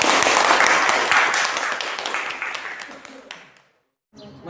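Applause from a classroom of students fills the first three and a half seconds, loud dense clapping that gradually thins and fades to silence, followed by a brief faint sound at the end.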